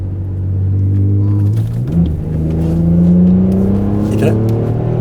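Alfa Romeo 159 Ti 3.2 JTS Q4 with a lightly modified exhaust and its flaps opened, idling low and then revving up around two seconds into a sustained, rising engine drone, loud and close.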